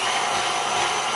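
A KitchenAid stand mixer processing peaches gives off a steady, loud motor whir that holds even and close throughout, with no voices.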